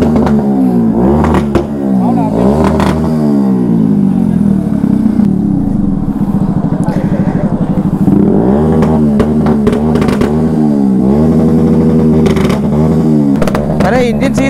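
Kawasaki ZX10R sport motorcycle engine revving repeatedly, loud and close, with rising and falling pitch sweeps and clattering idle between blips, while people talk over it.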